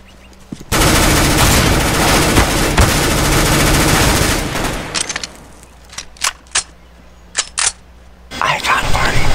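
Sustained rapid automatic gunfire in a video game, a long loud burst followed by several short separate shots and bursts, with game noise around them.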